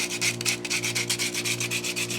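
Sandpaper rubs over a wooden Pinewood Derby car in quick, rhythmic back-and-forth strokes, close and steady, with a low constant hum beneath and no talking.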